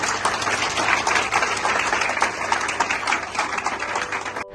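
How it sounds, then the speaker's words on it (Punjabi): Crowd applause at a church ministry gathering in Bathinda, India, a dense, steady wash of many hands clapping for about four and a half seconds before it cuts off abruptly, loud and continuous with no voices standing out. "ਉਹਨਾਂ ਦੀ ਤਾੜੀਆਂ ਮਾਰ ਦਿਓ"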